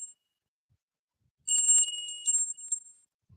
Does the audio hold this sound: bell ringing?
yes